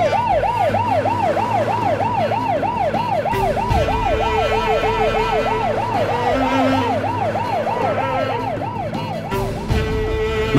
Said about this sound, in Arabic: ما تخافش يا عم زكريا، زمن الاسعاف جاي هتبقى زي الفل.